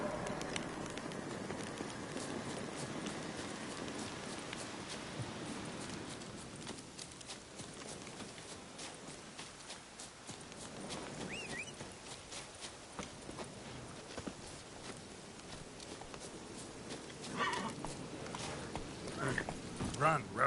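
Roach the horse gallops in The Witcher 3, a steady rhythm of hoofbeats running the whole way, close and moderately loud, with a voice speaking over part of it.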